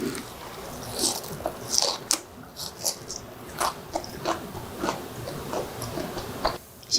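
Close crunchy bites and chewing of a crisp, chewy pan-fried enoki mushroom pancake with perilla leaf, bound with a water batter and no egg, giving a series of sharp crackles at an uneven pace.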